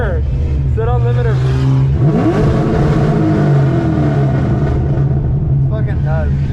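Chevrolet Corvette C6 engine held against the rev limiter, a loud, bouncing, stuttering roar with sharp rising and falling revs, while voices talk and shout over it.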